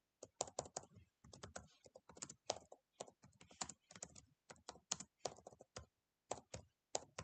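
Rapid typing on a computer keyboard, a close, quiet stream of crisp key clicks in uneven bursts with short pauses between words.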